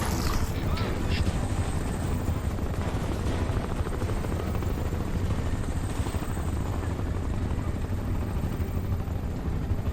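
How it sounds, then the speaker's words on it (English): A helicopter in the video game Crysis 1 Remastered hovers near a cruiser's flight deck, its rotor and engine roar steady, loud and continuous throughout, with faint talk mixed beneath. "And there's a helicopter."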